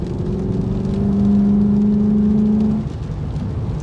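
Car with a cold air intake revving under load, a loud, close engine note climbing in a steady drone for about three seconds before easing off, with no talk.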